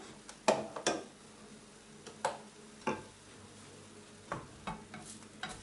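Crepe batter cooking in a hot frying pan gives off a soft, steady sizzle, broken by a handful of sharp scrapes and taps from a utensil at irregular intervals, with no talking.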